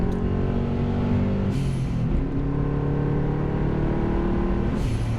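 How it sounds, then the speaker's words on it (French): Engine of a Subaru Impreza GT Turbo idling steadily with a couple of quick throttle blips that lift the pitch briefly, heard close and loud with no talking. "Et tu vois là, le petit coup de gaz comme ça"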